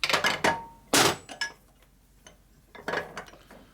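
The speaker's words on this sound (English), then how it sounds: "Try to knock this out with a hammer." Several sharp metallic hammer knocks on a part in a Harley shovelhead four-speed ratchet-top transmission being rebuilt, struck in short irregular bursts with quiet pauses between them, close and fairly loud.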